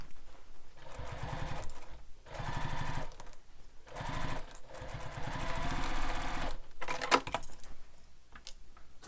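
Sewing machine stitching the lining of a bowler bag, a close rapid mechanical chatter in several bursts separated by short pauses, with light clicks and rattles between runs.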